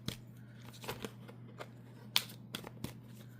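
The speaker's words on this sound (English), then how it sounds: "I saw that, so I stopped shuffling" Tarot cards are shuffled up close in a series of soft, quick riffling and slapping bursts, spaced irregularly over a low steady hum.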